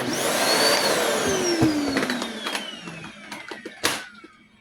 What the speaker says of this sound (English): you're gonna vacuum it up